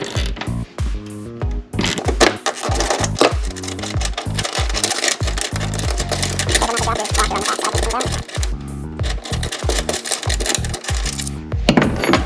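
Wrench tightening a plus nut into a plastic-covered truck bed rail, a dense run of rapid ratcheting clicks and metallic clatter that keeps going with brief pauses, close and fairly loud.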